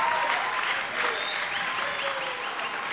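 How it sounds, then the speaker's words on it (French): Steady, full applause rolls from a crowd at a Kimbanguist music concert in Brazzaville, many hands clapping at once, close and continuous with a slight easing toward the end. "Vos applaudissements augurent déjà."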